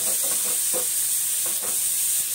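Boiled potatoes are stirred into a hot frying pan for vada pav filling, with a close, steady sizzle and hiss and a few soft scraping stirs.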